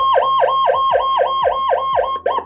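A Feniex 200W Typhoon electronic siren wails loud and close in a fast, repeating yelp cycle, roughly eight sweeps before it cuts off abruptly near the end, with a brief stutter after.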